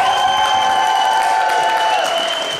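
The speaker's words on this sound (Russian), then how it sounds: "ваши аплодисменты Игорю" A quiz-show audience gives loud, sustained applause with scattered cheering, while a bright steady tone rings over the crowd throughout.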